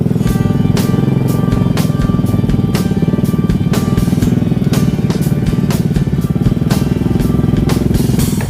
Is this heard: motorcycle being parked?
yes